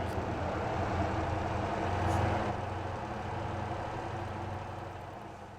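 A truck engine in the Motor Town driving game drones steadily at low pitch, a constant close rumble with no talking.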